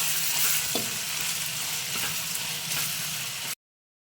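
Onion, tomato and spices sizzling and frying in hot oil in a home kitchen pan, a steady close crackle with a few faint stirring knocks before the sound cuts off abruptly.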